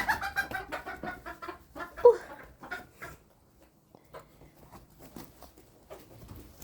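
Chickens cluck in short, busy bursts close by in a coop, with one louder squawk, then the clucking thins to softer, scattered calls.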